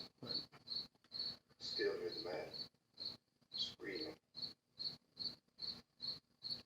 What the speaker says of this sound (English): You hear the crickets in the background. They're obviously added in post-production